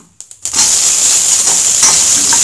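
Onion and green chillies are dropped into hot oil tempered with cumin and mustard seeds for vermicelli upma. A few light clicks give way to a loud, steady hissing sizzle that carries on to the end.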